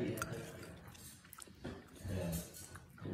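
Crunchy Irish breakfast ham with a pork-belly texture is chewed up close, giving soft, irregular crunching and squishy bites at low level with no talk.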